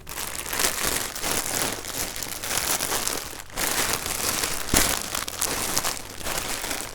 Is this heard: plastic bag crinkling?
yes